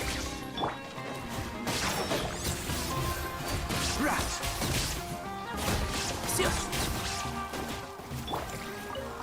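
Illusion-shattering effect in the video game Genshin Impact: a dense, loud crash of glassy breaking and clattering debris, sustained with several sharp hits, over game music, with a voice briefly speaking.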